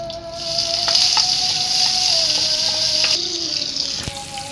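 Bay leaves with chopped onion and garlic hiss steadily in hot oil for several seconds, a close, continuous bright sizzle with a few faint clinks and no talking.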